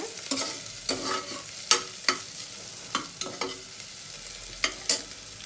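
Ingredients for Coorg-style chicken soup frying in a pan, with a faint sizzle under repeated sharp stirring scrapes spaced about every half second, close and alone with no talking.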